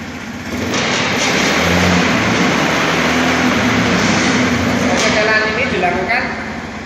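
A fuel-injected motorcycle engine idles after the ignition is switched on, a steady, close, broadband running drone that holds evenly for several seconds before dropping away at the end.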